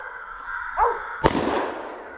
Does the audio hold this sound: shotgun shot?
yes